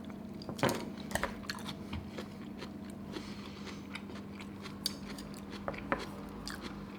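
Chewing on a side dish of squid liver eaten with rice, with a spoon: soft, close mouth noises and small crunches repeat through the stretch, along with a few light clicks of cutlery against a dish.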